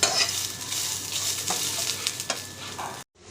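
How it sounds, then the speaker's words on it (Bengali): Onions frying brown in a pan make a dense, continuous close sizzle with light stirring noises, loud and steady with no voices, then cut off abruptly near the end. "পেঁয়াজটা বাদামি কালারে ভাজা হয়ে গেছে"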